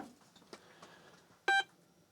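DEC VT100 video terminal fitted with an Advanced Video Option board and faulty, powering on: faint clicks, then one short, fairly loud electronic beep, then quiet.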